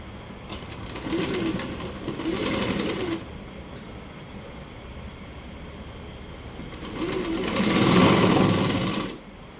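A sewing machine stitching the sleeve joint of a stone-embellished blouse, run slowly and carefully, in two bursts of steady whirring with a quiet pause between them and no talk.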